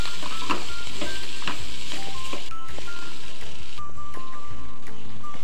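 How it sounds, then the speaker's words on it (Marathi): Boiled, finely chopped potato stir-fried on high flame, with repeated close spatula scrapes and stirs over a constant bright sizzle, no talking. "पुन्हा एकदा हाय फ्लेमवरती भाजी छान परतून घ्यायची आहे"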